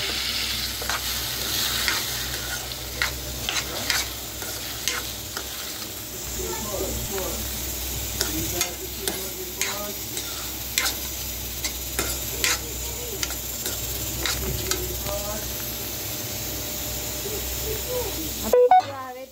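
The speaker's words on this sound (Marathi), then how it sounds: "जिरं झालं की तांदूळ टाकून घेऊया" Cumin and rice fry and are stirred in a pot for jeera rice, a continuous sizzle with repeated scraping and clinking stirs, while someone talks throughout.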